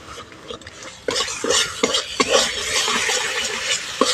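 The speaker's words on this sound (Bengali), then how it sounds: "মশলাটা ভালো করে ভেজে নেব" Spices with a little water and turmeric powder are stirred in a pan, with a spoon scraping and clinking in irregular strokes over a soft background sizzle, close by and with no talking.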